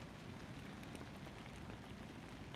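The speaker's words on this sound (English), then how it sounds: "I don't know if you can hear the rain hitting my car" Steady rain drumming on a car body, a dense, even patter of drops heard from inside the vehicle with no voices over it.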